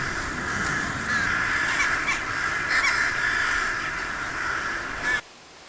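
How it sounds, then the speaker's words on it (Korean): A huge flock of crows, tens of thousands strong, settles into a dense bamboo grove in Ulsan on a winter evening, a continuous loud wall of overlapping cawing that runs steadily and then cuts off abruptly near the end. "6만 마리의 까마귀 무리가 대숲까지 내려앉는 데 걸리는 시간은 약 10분"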